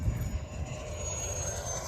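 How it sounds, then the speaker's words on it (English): A hand-started engine on a scratch-built model airplane drones steadily through its takeoff run, a loud, continuous buzzing whine with a thin high tone, close by and with no voices over it. "So he's about to hand start the engine, just like they do in the real thing."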